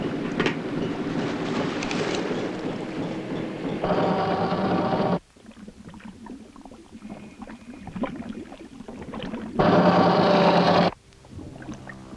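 Ship engines driven at full speed aboard a vessel in the Bermuda Triangle, a steady loud mechanical rumble and rhythmic clatter that cuts out abruptly, drops to a low murmur, then surges back briefly before stopping again.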